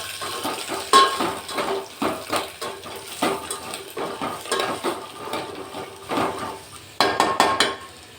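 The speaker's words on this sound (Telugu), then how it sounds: "అవన్నీ వేసుకుని ఒకసారి కదుపుకోండి." A spoon stirs curry leaves and spices in a metal cooking pot, giving rhythmic scraping and clanking strokes with a faint sizzle of frying underneath, loud and close.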